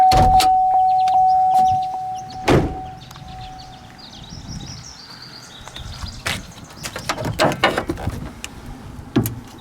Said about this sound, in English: And I'll pop the hood here.